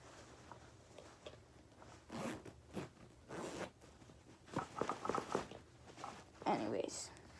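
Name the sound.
zipping up a bag pocket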